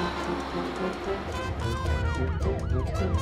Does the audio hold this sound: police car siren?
yes